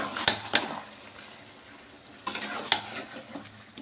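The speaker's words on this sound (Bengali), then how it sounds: "এবার ভালো করে কষে নেবো।" Chicken pieces with fried potatoes, turmeric and chilli powder being stir-fried (kasha) in a pan: a steady close sizzle with a few sharp scraping strokes of the spoon near the start and again later.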